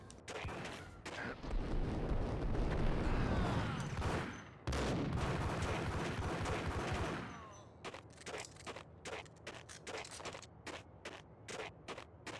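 Sustained bursts of gunfire from the Max Payne video game, dense and loud for about seven seconds with a brief break, then giving way to sparser, scattered shots and impacts.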